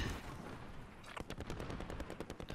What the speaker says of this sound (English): I can't tell where all that fucking shooting is coming from.